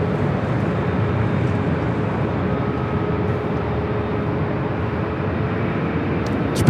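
Flair Airlines Boeing 737 MAX 8 airliner at Los Angeles International Airport, a continuous broadband jet engine rumble, steady and fairly loud, with a faint whine running through it and no one talking.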